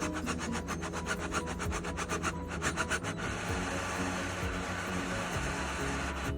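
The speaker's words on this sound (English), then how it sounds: "But I'm gonna go ahead and drill that other hole out." A drill bores a hole through a Harley-Davidson motorcycle exhaust bracket. It starts as quick, rhythmic grinding strokes, then settles into a steady, close, continuous cutting whir with an engine-like hum underneath.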